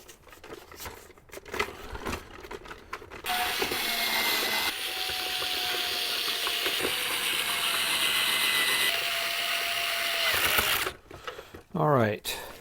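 A power driver whirs steadily for about seven seconds, sending screws into the lid of a Black+Decker appliance during a repair, with handling noise before and after and a brief squeal near the end.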